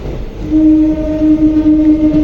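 DEMU express train 11415 running from Solapur to Hosapete, its steady rumble joined by a sustained horn tone that holds for nearly two seconds, loud and close, with no talk.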